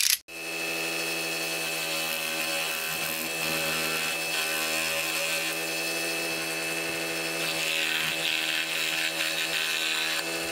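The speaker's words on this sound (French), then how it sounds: "j'ai décidé d'utiliser la scie à chantourner" A scroll saw running steadily and cutting, a continuous buzzing whine that stays loud and close throughout, no talk.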